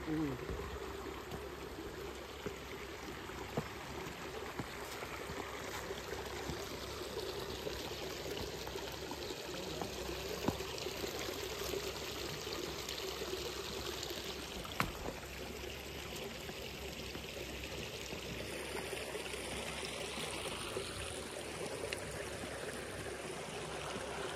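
Water rushing over a waterfall at Wadi Hoqain in Oman, a steady close wash of flowing, splashing water throughout, with faint talk and scattered knocks over it.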